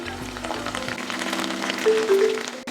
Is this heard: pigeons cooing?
no